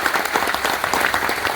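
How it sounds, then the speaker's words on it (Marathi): Dense applause from an audience at a community silver jubilee gathering in Vasai, steady crowded clapping throughout the short moment. "टाळ्यांचा जोरदार गजर या ठिकाणी व्हायला पाहिजे"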